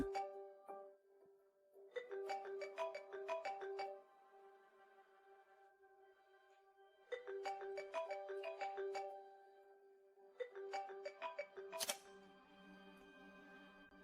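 A phone ringtone plays in three bursts of bright, repeating melodic tones separated by pauses, loud and close, with no talking.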